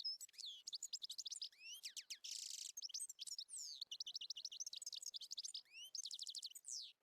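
A goldfinch sings alone, a fast run of bright, twittering chirps and trills with short buzzy bursts, close and clear against a quiet background.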